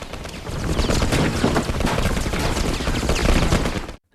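Dense, continuous gunfire rattles for about four seconds during a police shootout in a bank-robbery film, with loud overlapping shots and bursts that stop abruptly.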